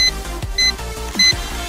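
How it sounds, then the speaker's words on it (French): The remote control of an H825 Flytec FPV toy drone beeps as it reaches the end of its range: short high beeps repeating at a regular interval over a low background hum. "j'ai ma télécommande qui bip parce que j'arrivais en bout de portée"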